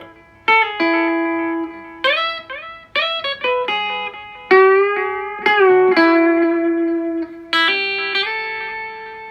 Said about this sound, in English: So you can hear some delay effect going on